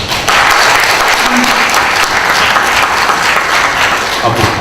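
Audience applause at a Democratic Party panel forum in Daegu, a steady, dense wash of clapping from a seated crowd that holds evenly loud for several seconds, with no speech over it.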